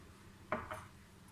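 A utensil knocks twice against a pot while stirring a tahini mixture for Kayseri katmer, quiet close clinks in an otherwise hushed kitchen.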